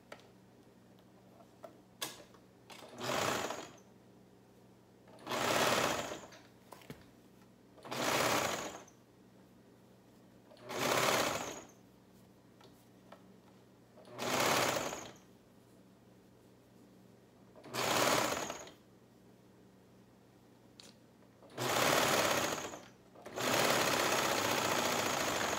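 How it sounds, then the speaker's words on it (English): Sewing machine stitching three layers of fabric together at a shirt sleeve seam, running in seven short bursts of a few seconds each with quiet pauses between, close and fairly loud, no talking. "And then you're going to sew these 3 layers together."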